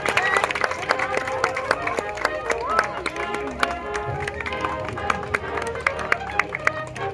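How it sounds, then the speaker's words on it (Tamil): A crowd at a residents' association Pongal festival claps steadily, many hands applauding at once with a dense, continuous patter, with voices faintly audible beneath. "அனைவரும் கைத்தட்டி கரகோஷம் எழுப்பி"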